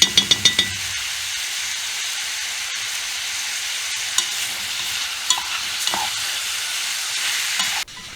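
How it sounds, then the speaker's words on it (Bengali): Beef frying in a pot for an Egyptian-style dish, a loud steady sizzle and hiss running throughout, broken by a few clanks of the stirring spoon against the pot at the start and occasional scrapes. "এভাবে আমরা 10 থেকে 12 মিনিটের মতো ভাজবো এবং সাথে নাড়তে হবে যাতে মানে ইসে পাতিলের সাথে গোস্তগুলো না লেগে যায়"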